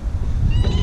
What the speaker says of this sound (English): Oh, that's a good kitty.